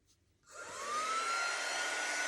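A hair dryer switches on after a brief quiet moment and ramps up to a steady, loud whooshing roar with a faint whine, drying a block project.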